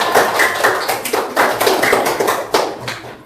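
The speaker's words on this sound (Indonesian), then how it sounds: "Tepuk tangan dulu buat kita." Applause from a class of students right after singing the Indonesian national anthem, a dense burst of clapping with irregular louder peaks sustained for about three seconds.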